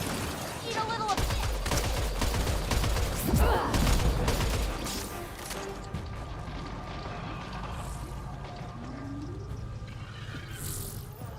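Enemy sniper gunfire in the video game Mass Effect Andromeda, scattered sharp shots over a dense battle backdrop, fairly quiet in the mix, with voices talking during it.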